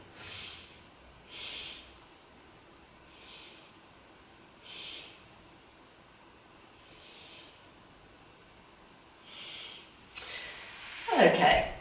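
Several deep, slow breaths are taken during a forward-bend yoga stretch, soft airy exhales spaced a couple of seconds apart, quiet and close, followed by a louder rustle at the end.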